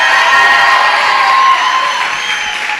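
An audience at a story slam cheers and whoops loudly as one, a dense crowd roar that holds steady for a couple of seconds and then begins to fade.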